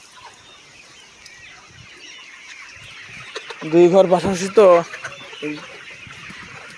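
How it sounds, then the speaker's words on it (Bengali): Sonali chickens in a poultry shed cluck in a loud burst of repeated calls near the middle, then a few softer clucks, over a steady farmyard hum with someone speaking briefly. "কিছু সোনালি মুরগি আছে"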